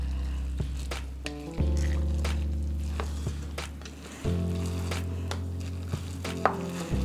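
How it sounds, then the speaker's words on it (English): Food being stirred in a covered pot on a stovetop gives a steady sizzle under repeated scraping and clattering stir strokes, with the cooking hiss swelling at a few points. "So what you do is you stir it up."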